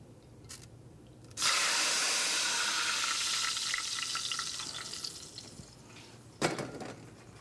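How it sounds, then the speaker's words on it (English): Hot lamb cutlet fat poured off from a pan gives a loud, steady sizzling hiss that rises suddenly, holds for several seconds, then tapers, with a brief clatter near the end. "What I'm going to do now is I'm going to get rid of this fat"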